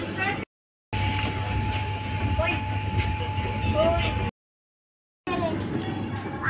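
The Vande Bharat Express from Howrah to Puri running along the rails, heard from inside a nearly empty coach as a loud, steady low rumble with a thin whine, interrupted by two short gaps of silence.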